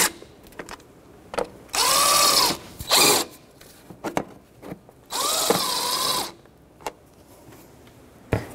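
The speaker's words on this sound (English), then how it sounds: "10 millimeter socket, and just snug them up" A power tool with a 10 millimeter socket snugs nuts during a starter replacement on a 2006-2012 Toyota RAV4, whirring in two short close bursts and then a longer one, with clicks and clanks of tools between.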